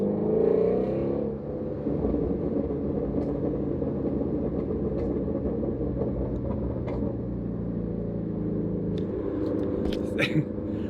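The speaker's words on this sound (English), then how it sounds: "Speaking of the best exhaust" A Ford Shelby GT350's V8 engine rumbles and revs steadily close by, a deep throaty exhaust note holding for several seconds with a few brief higher flares near the end.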